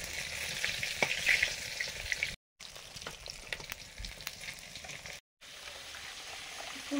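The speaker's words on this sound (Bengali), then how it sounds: "মাছ ভাজা হয়ে গেছে, আর কয়েকটা আছে ভাজতে বাকি" Katla fish pieces fry in hot oil, a continuous crackling sizzle with sharp pops, close and fairly quiet, broken by two brief silent gaps.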